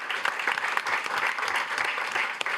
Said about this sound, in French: On applaudit, juste un applaudissement.